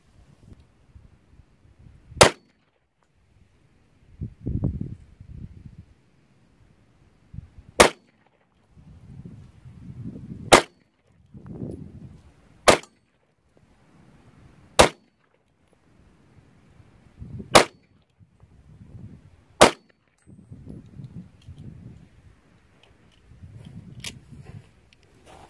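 Gunshots from target shooting at steel targets outdoors, eight sharp isolated cracks spaced a few seconds apart, each standing alone over a quiet low background of faint rustling.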